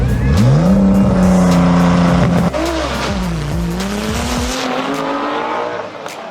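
A Shelby GT350 and a 2009 Nissan GT-R launch off the line at a spectator drag race, engines roaring loud and close with rising revs, tire squeal and a gear-change dip as the cars pull away.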